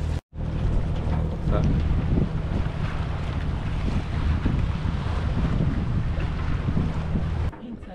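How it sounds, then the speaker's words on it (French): Strong wind of around 30 knots buffets a sailboat at an anchorage behind an island, roaring and rumbling against the microphone with a constant low churn, cut briefly at the start and dropping near the end. "avec 30 nœuds de vent, ça doit lever une grosse mer"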